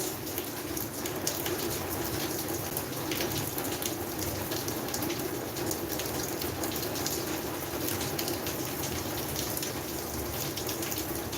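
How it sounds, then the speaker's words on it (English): Steady rain falls over a garden through a long overcast day, a dense even hiss of drops hitting surfaces, close and continuous with no voices. "So this whole day it has just been raining."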